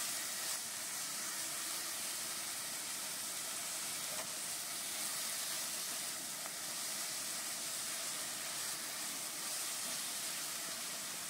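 Onion, ginger and garlic fry in a pan for a Bengali coriander chicken dish, giving a steady broad sizzling hiss that holds evenly throughout without pauses or voices.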